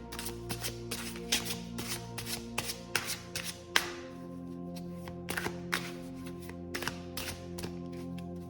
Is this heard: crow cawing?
no